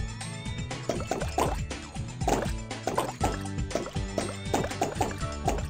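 Short wet plops from bubbles popping in a primary-colors bubble blaster game, repeating in irregular clusters over steady background music, with no talking.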